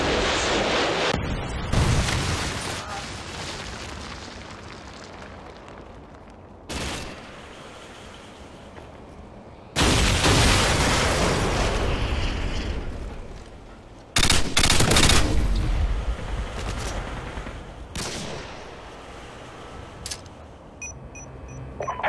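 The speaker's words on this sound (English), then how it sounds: "Friendly Predator missile inbound." Explosions and bursts of gunfire from the game Modern Warfare 2 in a free-for-all match, with loud booming blasts at intervals between stretches of rattling automatic fire and background battle noise.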